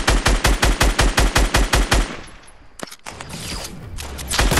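Rapid automatic gunfire from a mobile shooter game rattles in an even burst of about fifteen shots, then gives way to scattered single shots and a lower rumbling tail.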